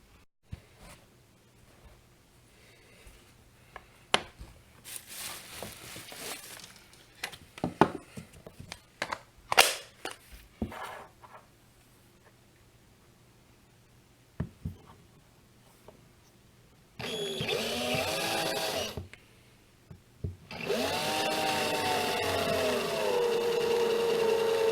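A drill bit grinds through an aluminum CPU heat spreader in two sustained bursts, each rising in pitch and loud and close. Quieter scattered taps and handling knocks come before them.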